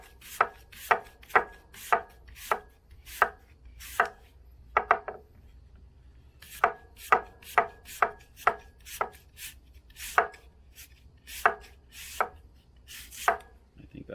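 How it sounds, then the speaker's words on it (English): An unpeeled Honeycrisp apple is sliced with a knife on a board, giving crisp, close cuts in two rhythmic runs separated by a short pause, with no talk. "we just want to slice up some of that Honeycrisp"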